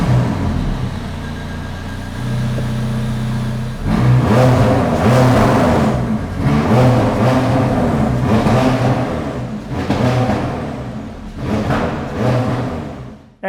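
A sports car with 570S GT4-style aero revs hard, starting with a steady idle and then giving several loud, rising blips that fade between pulls, heard close and alone.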